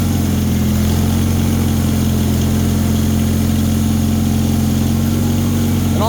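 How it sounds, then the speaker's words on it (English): Bolens HT-23 snowblower engine running hard while clearing heavy snow, a loud, constant low engine roar with a steady churning texture throughout and no talking. "But now I'm just blowing like very heavy snow here."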